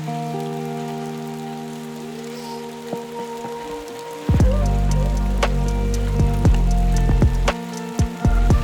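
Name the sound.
icy rain falling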